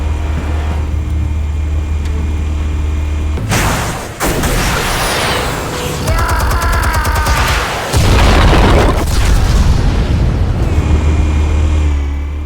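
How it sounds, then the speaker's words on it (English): Explosives detonating in the Batman Telltale video game: a sudden loud blast breaks over a low rumble, followed by crashing debris and a second heavy burst, with a deep engine-like drone underneath. "Explosives armed. Fire when ready."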